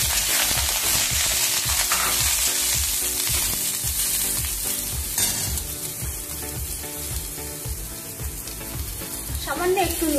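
Eggplant slices frying in hot oil, a steady loud sizzle with clattering pan and stirring sounds throughout, nearby and continuous.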